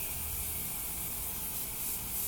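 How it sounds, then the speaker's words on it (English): Morphe Continuous Setting Mist sprayed onto a made-up face, a soft, even hiss of fine spray that goes on unbroken for a couple of seconds, quiet and close with no voices. "I go in with my Morphe Continuous Setting Mist, and we're just going to spray the face"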